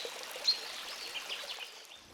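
A garden pond pump runs steadily, its water trickling and splashing softly in an outdoor setting, with a faint bird call briefly standing out.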